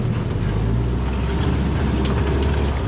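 A boat engine in Guyana drones loudly and steadily as the boat pushes over a fallen tree in a waterway, with some wind buffeting the microphone and no talk.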